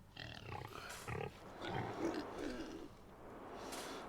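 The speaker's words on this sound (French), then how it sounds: "C'est bien des cochons mais ça salit." Pigs in the farming video game Farming Simulator 22 grunt and oink in a string of short, low snorts at moderate distance, with quiet farmyard ambience between them.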